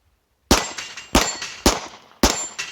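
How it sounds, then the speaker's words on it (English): Glock 17 9mm pistol fired at steel targets outdoors: five sharp shots with metallic clangs of hits ringing out, evenly spaced after a brief silence, loud and close. "a Glock 17 is a fairly light shooting 9mm"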